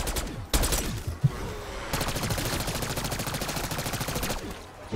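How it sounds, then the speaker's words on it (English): Rapid gunfire in a video game, an opening burst followed by a long sustained stream of fast automatic shots, loud and close with a steady rattling rhythm. "This gun shoots way quicker."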